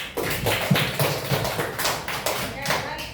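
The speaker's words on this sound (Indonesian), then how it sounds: "Give applause untuk grouping" Applause from an audience at the close of a group presentation, a steady patter of clapping hands lasting a few seconds, moderately loud and fairly close.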